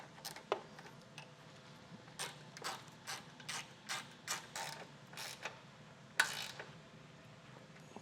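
A ratchet tightening a Blue Ox base plate mounting bolt on a 2013 Mini Clubman, a series of short, close clicking bursts in an irregular rhythm against a quiet background, one sharper clack near the end.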